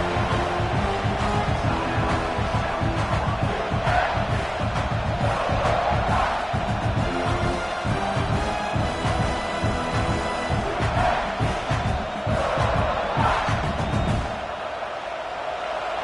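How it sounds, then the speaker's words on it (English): A packed football stadium crowd roars and chants without letup during a South Carolina vs LSU game, loud and dense, then eases slightly near the end. "This crowd bringing the energy and noise early."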